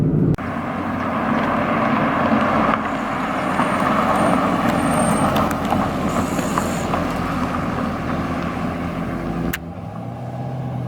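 Deep, steady exhaust rumble from a stock, unmodified 2012 Camaro SS RS with a six-speed manual, loud and close throughout, with a brief lift near the end as the note drops.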